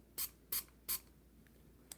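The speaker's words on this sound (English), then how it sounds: "So I'm going to go and do my spray." Three quick hissing bursts from a pump spray bottle of herbal oral spray, evenly spaced and close, followed by a fainter short spritz, with no talking.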